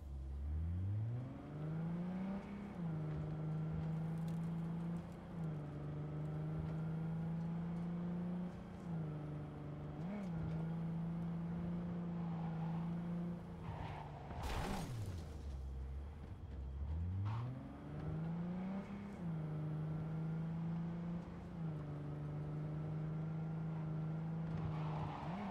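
A car driven in Cyberpunk 2077 hums steadily with a droning engine tone that dips and climbs with gear changes and revs, plus a brief skid or crash burst midway, continuous and fairly close.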